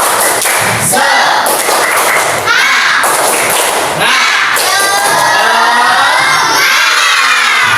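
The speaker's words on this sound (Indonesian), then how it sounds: "Yang semangat yang keras 1, 2, 3 tepuk semangat." A fourth-grade class in an Islamic religious education lesson performs a loud group spirit-clapping chant, with rhythmic claps, thumps and children shouting together in a close, energetic burst.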